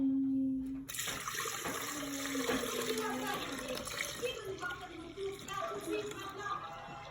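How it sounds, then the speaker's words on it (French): A liquid preparation for assida zgougou is poured into a Thermomix bowl, a continuous close splashing and trickling stream after a brief hum, lasting several seconds. "Je viens donc verser ma préparation dans mon thermo."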